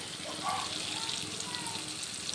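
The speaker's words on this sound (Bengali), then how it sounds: "এখন আলুগুলো ভেজে নিচ্ছি" Potatoes frying in a wok in a home kitchen, giving a steady, close sizzle and crackle that runs throughout without a break.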